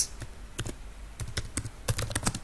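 Quiet, close keystrokes on a computer keyboard while airline seat-booking commands are entered, tapping in short irregular bursts of clicks with brief pauses and no voices.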